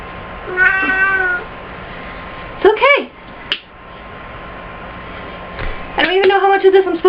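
A cat meowing while being bathed, several drawn-out, wavering plaintive meows, including a close cluster near the end, with a person talking softly to it in between.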